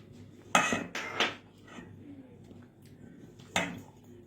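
Hot boiled potatoes being mixed in a bowl for potato pakoda, giving a few clinking knocks of a utensil against the bowl, with two close bursts early and another near the end, over a faint quiet background.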